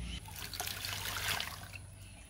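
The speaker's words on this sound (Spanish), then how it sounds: "2 vasos de agua." Water pours into a pot of squash preserves with sugar and cloves, a faint steady trickle and splash at close range with no talking.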